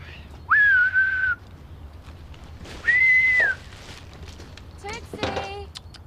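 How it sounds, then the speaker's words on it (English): Two loud, sustained whistles a couple of seconds apart, with quieter sounds and faint voices afterward. "Well, whistle then."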